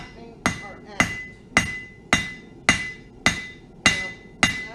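Hammer blows strike hot metal taken from a forge furnace while flattening it into a leaf shape, nine sharp ringing impacts at a steady, roughly half-second rhythm, close and loud.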